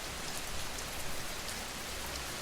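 Gentle rain falls as a soft, even patter, steady and faint, with no voices or other sounds.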